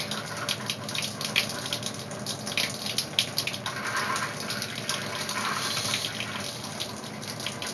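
Steady rush of water pouring from a camper's tap during winterizing, a constant close splashing hiss with no voices.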